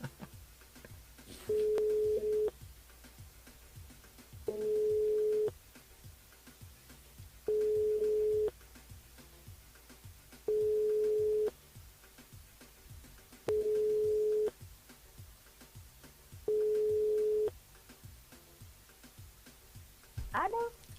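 A telephone ring-back tone sounds as a radio host calls a listener on air, repeating six times in evenly spaced, steady buzzing pulses with pauses between, alongside faint background talk.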